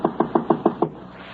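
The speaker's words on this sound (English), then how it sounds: "he knocks again." Six evenly spaced knocks rap on a front door as a radio drama sound effect, firm and close, followed by a brief quiet pause.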